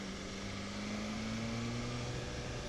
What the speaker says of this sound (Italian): Sentite il motore come è impiccato così, cioè non è impiccato, sono a 4000 su 11 che prende.